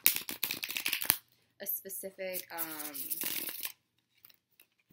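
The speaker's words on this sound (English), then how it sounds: "Right now I'm just shuffling the cards for Scorpio." Quick papery riffling of a tarot deck being shuffled in bursts, with a voice talking over and between the shuffles.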